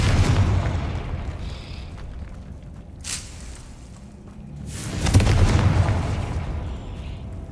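Fiery blasts from the Confringo spell in the video game Hogwarts Legacy, two booming bursts a couple of seconds apart that roll into a rumbling tail, over a dense wash of combat noise.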